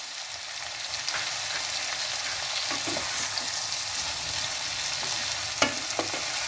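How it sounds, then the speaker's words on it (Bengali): Mixed vegetables with tomato and green chili sizzle steadily in a pan, a continuous close frying crackle with a few soft stirring clicks and no talking. "ভাজা ভাজা হয়ে গেছে, আমি এবার টমেটো কাঁচা লঙ্কাটা দিয়ে দিলাম।"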